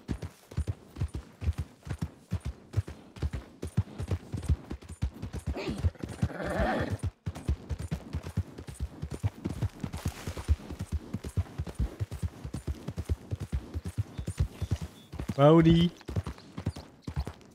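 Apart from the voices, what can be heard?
horse riding hoofbeats in Red Dead Redemption 2 video game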